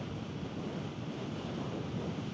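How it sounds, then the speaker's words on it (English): Riding a Ducati Hypermotard V2 motorcycle with no windscreen, wind buffets the microphone in a constant, dense roar that masks the engine. "There's an awful lot of wind, as you'd expect. There's no screen on it."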